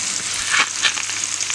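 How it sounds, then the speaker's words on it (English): Mushrooms fry in a pan with juices cooking off, giving a steady, close sizzle throughout and a couple of brief louder crackles or stirs; no one speaks. "let the mushrooms start to get brown first"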